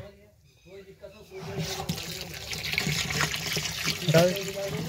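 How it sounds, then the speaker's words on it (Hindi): Water gushes steadily into a mango-based organic bio-mixture being prepared with jaggery for farm soil treatment, starting after a quiet opening and building into a broad, continuous pour with splashing, close by under a faint background voice. "ये आम का जैव रसायन बनने के लिए इसमें पानी डाला जा रहा है"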